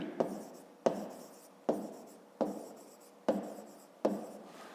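Pen strokes on paper during a fifth-grade geometry exercise, six sharp scratchy strokes spaced evenly, each fading quickly, close and clear with no voices.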